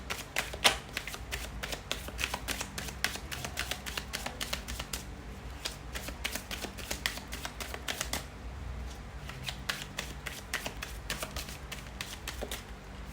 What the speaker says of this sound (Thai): เราจะมา เปิดไพ่ ออร์เคิลกัน ว่าไพ่อยากจะแนะนำอะไรกับทุกคนที่ผ่านมาเจอคลิปนี้บ้าง